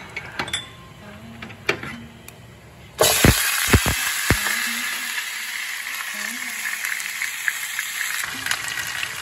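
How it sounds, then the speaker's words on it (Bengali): Small-cut potatoes drop into hot oil with cumin and dried chilli in a pan, setting off a sudden loud, steady sizzle after a few sharp clatters. The frying goes on evenly to the end, with no talking over it. "আলুটা ভাজতে দিলাম।"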